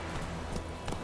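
Roach, Geralt's horse in The Witcher 3, gallops in a brief burst of quick, steady hoofbeats, close and fairly loud, with no voices.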